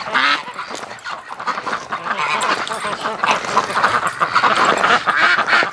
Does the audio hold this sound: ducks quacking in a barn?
yes